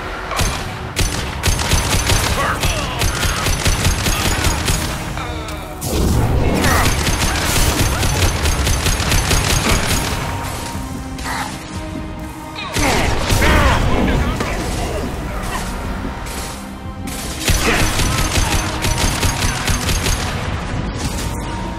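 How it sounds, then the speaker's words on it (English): Gunfire in a video game during a high-impact shot, heavy bursts of shots and booms in several loud waves with mechanical clatter between them, dense and continuous, with voices talking in places. "Firing a high-impact shot."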